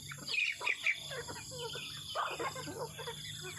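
Chickens on a farm at morning feeding, a flock of about sixty to seventy birds, cluck and chirp in short scattered bursts over a steady background hum, with no talking.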